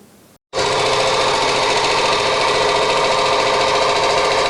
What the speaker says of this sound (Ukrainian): Підрядник демонтує старе асфальтне покриття